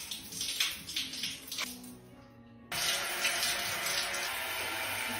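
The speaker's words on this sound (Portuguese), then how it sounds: "Alguém liga a torneira." Water runs from a tap, a soft trickle that cuts off briefly before gushing back in a louder, steady stream into a basin.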